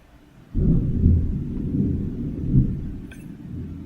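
Thunder in the underwater video game Beyond Blue: a deep, sustained rumble rolls in abruptly and swells in two broad waves before slowly easing off, with a faint chime near the end.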